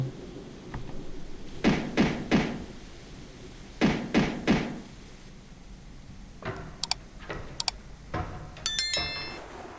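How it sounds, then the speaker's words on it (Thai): Knocking on a house door in a horror video game: two clear bursts of three quick knocks, followed by sharper clicks and rattles over a low ambient hum. "เสียงเหมือนมีคนมาเคาะบ้าน"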